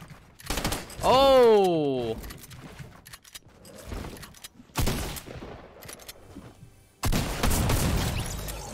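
Burst SMG fire in Fortnite gameplay, a few sharp clustered shots rattling out over game noise, with one brief spoken exclamation and a loud sweeping swoosh sound effect early on.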